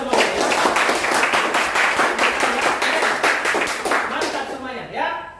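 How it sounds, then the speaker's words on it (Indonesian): A classroom group claps together in a quick, fairly regular rhythm, loud and close, tapering off near the end as a voice starts speaking. "Tepuk tangan untuk kita semua."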